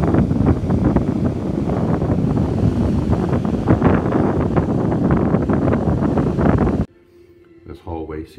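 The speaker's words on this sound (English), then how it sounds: "Well, as always, when you're out at sea, it's windy." Strong wind buffets the microphone on the open deck of a cruise ship at sea, a loud continuous roar that cuts off abruptly near the end, followed by quieter indoor sound with a brief voice.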